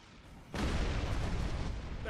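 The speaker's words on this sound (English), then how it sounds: "The Heralds are firing on the portal!" Weapons fire strikes a time portal in Star Trek Online, a sudden heavy blast that swells into a sustained rumbling roar.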